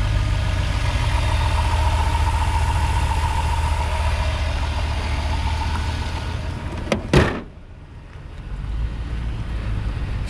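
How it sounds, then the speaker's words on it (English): A 2005 Dodge Grand Caravan V6 engine idles with a steady low hum, close and continuous, broken near the end by a brief sharp knock, then quieter rumble. "motor sounds pretty good"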